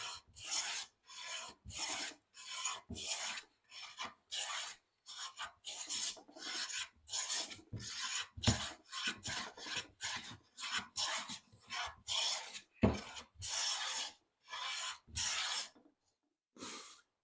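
A hand plane takes fine smoothing cuts across a wooden surface, making a rapid series of short, crisp rasping swooshes in an even back-and-forth rhythm, close and distinct, with brief gaps between strokes and no talking.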